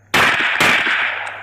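A single suppressed gunshot with a silencer, heard right next to the shooters on a range, gives a loud, sharp crack followed by a second report and a long fading ring.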